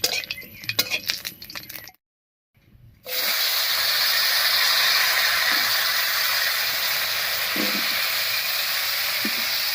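Potato pieces frying in oil tempered with whole cumin seeds, a loud continuous sizzle and hiss close up, with a few light clinks of a utensil, after a short silent gap.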